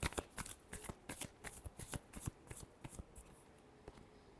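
Tarot cards are shuffled by hand in a quick run of crisp riffling snaps, close and fairly quiet, tapering off toward the end.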